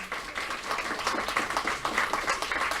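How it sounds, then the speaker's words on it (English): An audience at the Mind Sports Olympiad Pentamind victory ceremony gives a steady round of applause for a tournament organiser, the clapping moderate and continuous for a few seconds. "Let's give her a round of applause again."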